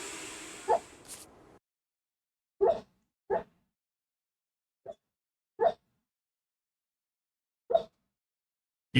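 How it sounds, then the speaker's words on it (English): A sleeping dog gives a series of short, soft whimpers and muffled yips, spaced irregularly across several seconds and heard close up against near silence. "That's the dog whimpering."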